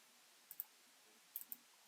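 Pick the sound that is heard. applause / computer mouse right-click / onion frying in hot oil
computer mouse right-click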